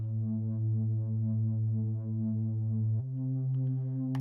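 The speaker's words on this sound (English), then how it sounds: "It's a Reese bass actually, just like a splice preset" A distorted Reese bass from a Splice preset drones as one thick, buzzing sustained note, then jumps abruptly to a higher pitch and holds, loud and alone.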